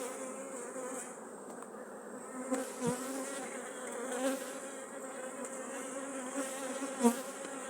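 Carpathian honey bees buzz steadily at an open hive, a dense close swarm drone with a few louder passes as individual bees fly near.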